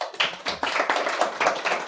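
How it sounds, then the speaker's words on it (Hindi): An audience of students applauds, a lively run of clapping with rhythmic bursts of several overlapping hands, close and steady for about two seconds, alone without talk. "तालियां।"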